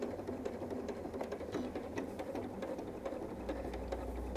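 Sewing machine stitching through Christmas stocking fabric, a steady close mechanical whir with rapid needle ticking that holds throughout and shifts slightly in tone near the end as it backstitches.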